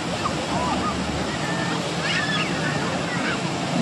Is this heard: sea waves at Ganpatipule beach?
yes